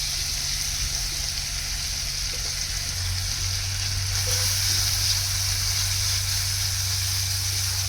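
A spice paste for shahi paneer fries in a pan with a continuous bright sizzle and hiss, steady and close, with a low hum underneath and no voices.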